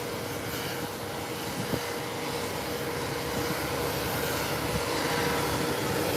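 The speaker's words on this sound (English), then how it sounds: "the aircraft is off the ground, and it's up and away" Beechcraft 1900 turboprop climbing away from an airstrip after takeoff, a steady broadband engine roar with wind noise, fairly loud and continuous without voices.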